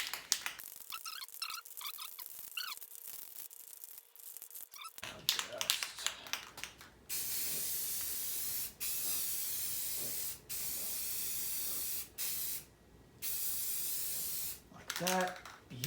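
Spray paint hisses from an aerosol can onto a 1986 Ford 300 inline six engine during a rebuild, in several loud, steady bursts of about one to two seconds each, separated by short pauses, after a stretch of quieter handling noise.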